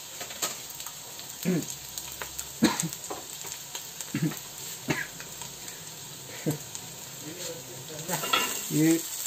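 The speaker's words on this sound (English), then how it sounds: "Now we're going to proceed to drop everything in the pan. So first, some onion." Onion frying in a pan for Mexican home cooking, giving a close sizzle broken by scattered stirring scrapes and utensil clinks, with brief murmured voices in the background.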